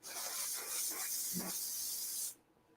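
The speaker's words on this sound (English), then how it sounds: "that's just an ever so slight dulling spray" Aerosol dulling spray hisses from a can in one continuous, close burst lasting about two seconds, then cuts off abruptly into a quiet room.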